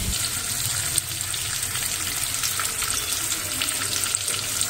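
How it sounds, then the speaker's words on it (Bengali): Hands being washed under a running kitchen tap, a steady, continuous splash of water close by with faint handling noises and no talking. "তারা হাত ধুয়ে নিই"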